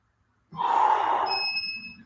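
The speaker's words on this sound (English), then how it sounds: "Inhale forward, exhale back." One heavy, forceful breath during a Tabata workout, a loud rushing gasp that starts abruptly after a short silence and tapers off over about a second and a half.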